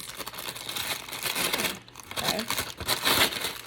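Crinkly plastic packaging from an overhead camera mount set rustles and crackles close by, with tearing bursts and a brief pause midway.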